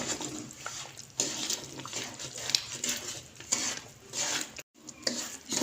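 Roasted wheat flour is stirred into hot sugar syrup in a pan for atta halwa, giving a continuous wet, squelching, scraping churn close by, with a brief pause near the end before the stirring resumes.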